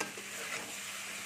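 Cauliflower and khesari lentil mixture is stirred gently in a pan, giving a steady close sizzle with soft scraping for a second or so, with no voices.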